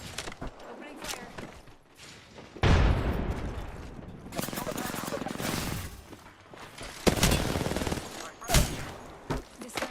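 Video game gunfire, with bursts of rapid automatic shots and sharp booms mixed with crackling impacts, loud and close, while players talk excitedly over the action.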